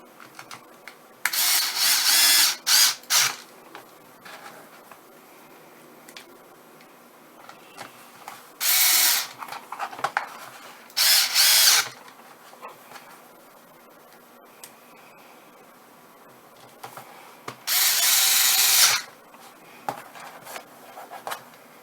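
Power drill driving screws back into a Worx 18V lithium battery case: four separate bursts of whirring, each a second or two long, with quiet handling noise in between.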